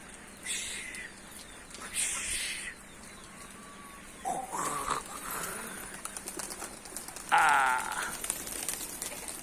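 Pigeons coo softly, with bursts of wing flapping and scattered bird sounds nearby.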